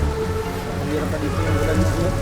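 Heavy rain falls in a steady, dense hiss outdoors on a mountain, with people talking over it throughout.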